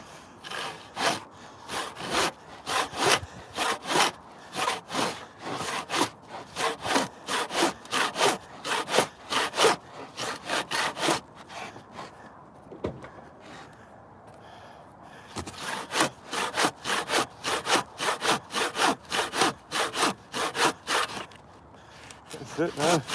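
A hand saw cuts through wood for building raised beds, its rhythmic back-and-forth strokes loud and close, pausing briefly midway before resuming, with occasional speech in the background.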